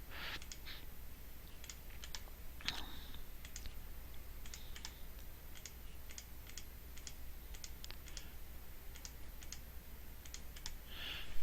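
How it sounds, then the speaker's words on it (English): A computer mouse is left-clicked over and over while placing points in fantasy map drawing software: a run of sharp, light clicks at uneven intervals over a faint steady hum. "I left click for every vertex."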